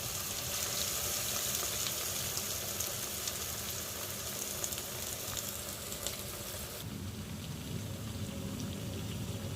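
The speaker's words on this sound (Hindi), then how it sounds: "इसको धीमी धीमी आंच पर ही सेकना है" Burger patties frying gently on a low flame in a pan: a steady, even sizzle with a fine crackle like light rain, continuous, dropping a little in level partway through, no speech.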